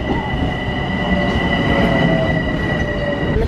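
A train rumbles past close by, a loud, steady roar of wheels on rails with a high squealing whine running over it, continuous for the whole moment.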